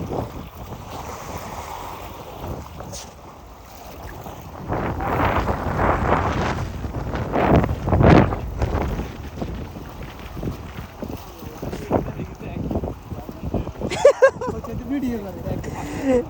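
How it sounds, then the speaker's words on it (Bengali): Strong waves crash and surge around a boat at sea as gusty wind buffets the microphone, loud and continuous with heavy rumbling swells building midway. "এত জোরে ঢেউ আসছে"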